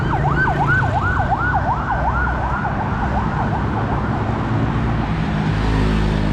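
A rescue vehicle's siren wails in rapid rising and falling sweeps as it passes along Souphanouvong Road in Vientiane, fading after a few seconds into a steady rumble of street traffic.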